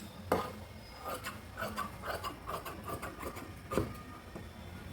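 Scissors cut through blouse fabric, giving soft, faint snipping and rubbing strokes in an uneven rhythm, close by, with no talk.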